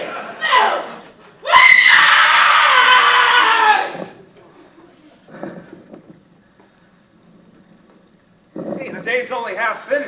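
A woman lets out a long, loud scream that dominates a couple of seconds, followed by quieter voices and shorter vocal outbursts.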